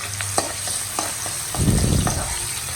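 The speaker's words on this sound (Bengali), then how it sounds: "ভালোভাবে এখন পেঁয়াজটা একটু ভালোভাবে ভেজে নিবে" Chopped onions fry with whole cloves, cardamom and cinnamon in a pan, a steady sizzle with a few scraping stirs and a louder burst of stirring near the end.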